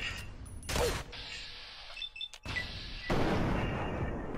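Gunfire in the video game Fallout 3, loud bursts of shots and booms opening the passage and returning strongly near the end, with a brief lull between.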